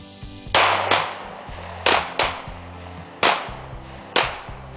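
Sharp gunshots at a shooting range ring out in a rapid, uneven string of about eight cracks, loud and close, each with a short decaying echo.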